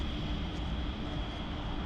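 A small propeller airplane engine in a flight simulator drones steadily throughout, a continuous broadband hum with a low rumble, no voices over it.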